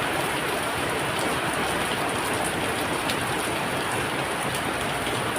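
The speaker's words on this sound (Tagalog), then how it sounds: "Umuulan." Steady, dense rain pours onto a house roof in Macao, a constant close hiss with no let-up and no voices.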